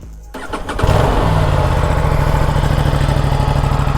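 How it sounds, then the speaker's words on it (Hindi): An Aprilia RS 457 twin-cylinder motorcycle with an under-belly exhaust cranks and fires up, then settles into a loud, close, evenly pulsing idle. "एक बार ना आपको एग्जॉस्ट नोट सुनाता हूँ इस बाइक का कि एग्जॉस्ट किस टाइप का है।"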